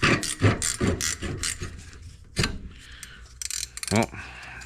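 A ratchet working a 13mm nut on the top of a Vespa Rally 200 front spring, giving a series of close, uneven clicking strokes with pauses and some handling noise in between.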